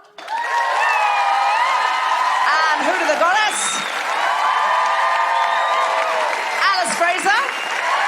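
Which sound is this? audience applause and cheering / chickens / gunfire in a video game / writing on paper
audience applause and cheering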